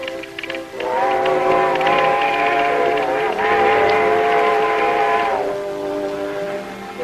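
A long, loud steam train whistle sounds in one sustained chord, briefly dipping midway, then cuts off, leaving the rumble of the train.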